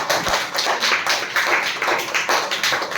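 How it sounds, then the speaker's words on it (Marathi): Classroom children clap for both winners of a number game, a dense, loud round of hand claps close by that pulses steadily without a break. "दोघांसाठी टाळ्या वाजवा"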